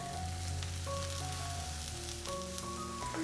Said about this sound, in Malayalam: അപ്പോൾ തക്കാളിയും ചേർത്തിട്ട് ചെറുതായിട്ടൊന്ന് വഴറ്റി കൊടുക്കാം.